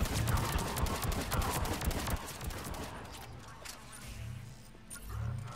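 Heavy gunfire in the Mass Effect 3 shooter game: a dense burst of rapid rifle shots, loud at first and then thinning out, with a few low thuds near the end.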